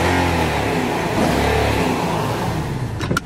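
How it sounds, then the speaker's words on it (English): A 2009 Infiniti FX50 with a 5-liter V8 revs hard, a loud, close, sustained engine roar that rises and holds before easing off, with no talking. "I'm gonna just step on the gas a little bit so you can hear that V8 sing."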